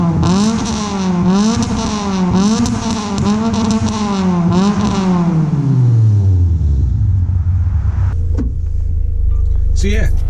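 A Toyota Celica T Sport exhaust rises and falls through several hard revs, then settles into a deep, steady drone as the car cruises on. The sound is close and loud, and there is no talk.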